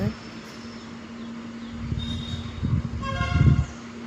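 A train approaches with a low, building rumble and sounds a short horn blast near the end, while a person talks over the noise.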